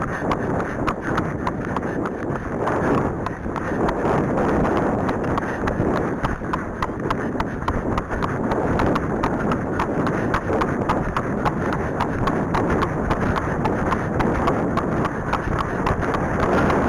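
Farouk the horse trots along with a steady, rapid run of hoofbeats, heard up close under constant wind noise buffeting the microphone.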